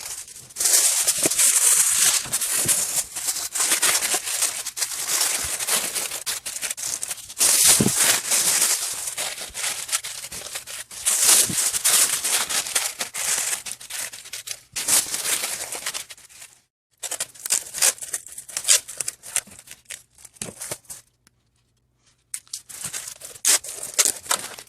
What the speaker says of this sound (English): wrap my entire box in aluminum foil